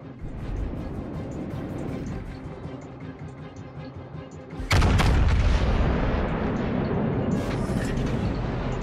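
Naval guns in the World of Warships: Legends game boom in a sudden heavy blast midway, following a stretch of low rumbling battle noise, loud and close.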